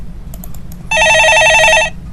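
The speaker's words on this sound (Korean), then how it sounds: "예, 전화 받아보겠습니다." A telephone rings on a Korean stock-market radio call-in show: a short faint chirp, then one loud, steady electronic trill lasting about a second, with no talk over it.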